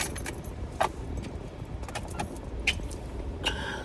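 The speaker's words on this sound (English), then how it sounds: "I think your keys are in here. Yeah, they're in here." A set of keys jangles inside a car, making several short, light metallic jingles and clinks scattered irregularly over a few seconds. The sound is fairly faint and close, with low background noise.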